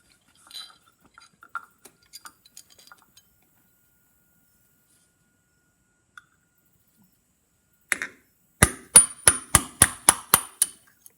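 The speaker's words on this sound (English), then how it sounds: "I got a punch that's smaller than that size of this pin." After a few faint taps and a pause, a punch is struck by a hammer about eight times in a quick, steady run of sharp metallic blows, driving a pin out of a phonograph lift lever, loud and close.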